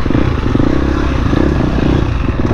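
KTM motorcycle riding down a mountain bike trail, its engine droning steadily and close with a low, rough rumble and some clatter over the whole stretch.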